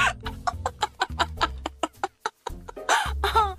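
A hen clucks in a quick run of short, close, loud notes, then breaks into a longer, raspier squawking cackle near the end.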